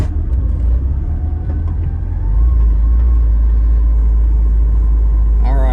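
Low, heavy rumble of a 1980s Porsche engine running rough at low speed in low gear, a steady droning idle-like growl that thickens midway as load builds, loud and close with no talking.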